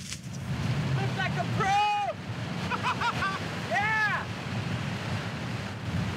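Ocean waves and strong gusting wind roar steadily off the coast of Cape Verde during a kitesurfing session, with buffeting wind noise on the microphone and a few voices calling out over the surf.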